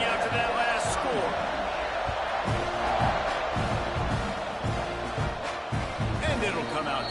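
Football stadium crowd buzzing steadily after a touchdown in a North Carolina Tar Heels versus Texas A&M game, a dense continuous roar with scattered thumps and bursts throughout, with commentary talk over it.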